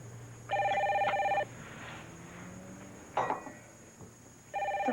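An old-style telephone bell rings in two bursts of electronic trilling, loud and close, separated by a quiet stretch with a brief clatter in an indoor room.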